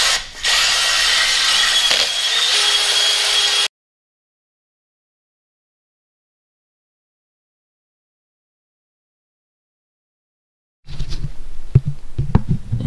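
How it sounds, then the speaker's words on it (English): A cylinder hone spins inside a liner of a Farmall M tractor engine, giving a loud steady whirring drone for a few seconds, then a long silence before brief clattering and shop handling noises return. "I'm gonna use one of these hones just to clean up"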